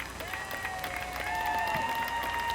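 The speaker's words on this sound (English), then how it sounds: "Nice round of applause." An audience at a USDAA Performance National Finals dog agility event claps steadily after a run, a dense, sustained round of applause from a crowd, with faint tonal sounds running through it.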